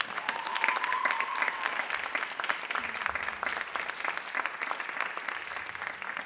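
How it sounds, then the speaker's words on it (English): Audience applause for student jazz performers at a spring concert fills the room in a dense, steady wash of many hands clapping at moderate distance, sustained throughout without a break. "So let's give them another round of applause."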